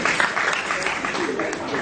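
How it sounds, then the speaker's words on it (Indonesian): Audience applause at a stand-up comedy open mic night in a restaurant: a dense, steady wash of clapping from a crowd throughout, fairly loud, with some voices mixed in. "Tepuk tangan lagi dong."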